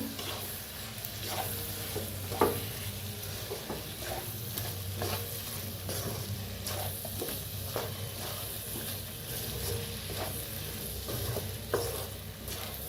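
Spice masala being stirred into sambar with cooked dal in a pan, a steady soft scraping and gentle sizzling with occasional light knocks of the spoon against the pan, continuous and close, with no voices.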